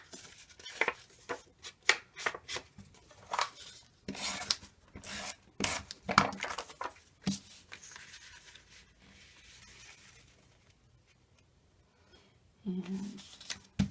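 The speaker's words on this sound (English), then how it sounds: "Now I'll give it some gray ink around the edges." Gray ink is rubbed around the edges of a paper card, producing close, soft scratchy swipes and dabs in uneven bursts with quieter pauses between them.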